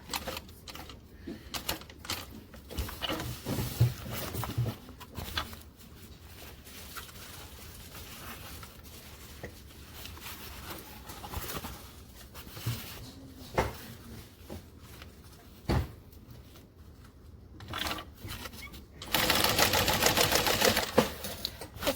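A sewing machine stitches fabric with a 1/8 inch seam allowance and a stitch length of 5. Scattered clicks and short mechanical bursts build to a loud, sustained whirring run at the end.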